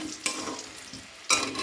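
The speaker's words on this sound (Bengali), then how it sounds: "আলুগুলো লাল লাল করে ভাজা হয়ে গেছে" Potatoes stirred as they fry in a pan: a soft sizzle under two sharp scraping strokes of a spatula, close and fairly quiet, no talking.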